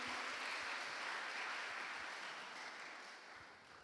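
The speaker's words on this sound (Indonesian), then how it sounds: "Boleh kita kasih tepuk tangan sekali lagi untuk kita semua." Audience applause at the opening of a provincial high school poetry-musicalization contest in Maluku, continuous dense clapping from a crowd, gently fading near the end, heard faintly.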